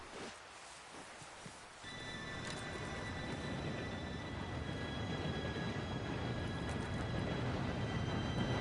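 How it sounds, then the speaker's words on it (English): A train arriving in a PS4 video game, a faint rumble that swells into a steady, louder rolling roar with high metallic squeals and ringing tones layered over it, no talk. "Train should be here any minute now."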